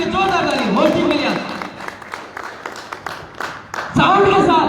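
An indoor audience claps to welcome the host at a gathering, a short burst of scattered hand claps heard between stretches of someone talking loudly over a microphone.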